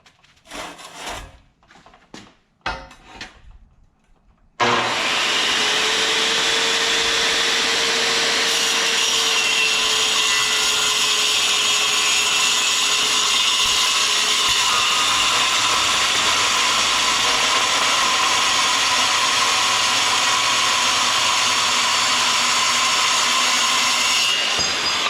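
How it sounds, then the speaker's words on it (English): A saw with a toothed blade cuts through metal in a continuous, loud, steady whirring grind lasting about twenty seconds, after a few seconds of scattered clicks and handling knocks. "It uses teeth on the blade and cuts through the metal just so clean and so quick."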